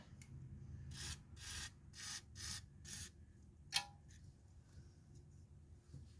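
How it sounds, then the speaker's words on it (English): Several short bursts of aerosol WD-40 sprayed onto the lower ball joint bolts of a 2002 Nissan Pathfinder, each a soft hiss lasting under a second, separated by pauses over a low workshop rumble, with one sharper click partway through. "spray some WD-40 on these"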